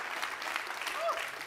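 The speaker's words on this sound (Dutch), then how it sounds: "Dus mogen we nog één keer een daverend applaus voor Abdelhamid." An audience at an HvA masterclass applauds a speaker, a soft, even wash of clapping from a crowd, heard from some distance at low volume for a short stretch, with a brief faint tone over it.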